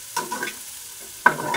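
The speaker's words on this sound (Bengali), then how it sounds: "প্রায় ভাজা হয়ে গেছে" An egg roll fries in a pan with soft sizzling and a few stirring scrapes, close and fairly quiet, with a sharper scrape near the end.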